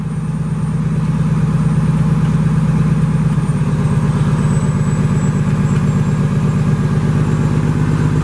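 A 2012 Freightliner Business Class M2 106 truck engine runs steadily with a low, rhythmic rumble that shifts in pitch partway through as it comes up to speed, loud and close.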